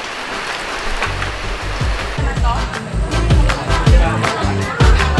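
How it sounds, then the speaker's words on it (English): Rain falls steadily in Sara, Iloilo, a loud, close patter with splashes and knocks, while people talk over it. "Always having fun in the rain."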